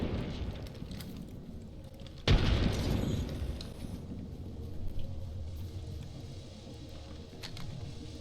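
A frag grenade blows up in Apex Legends: a single sudden boom, moderately distant, rolling into a fading rumble amid low game ambience.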